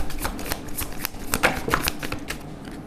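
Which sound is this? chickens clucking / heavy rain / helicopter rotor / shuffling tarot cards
shuffling tarot cards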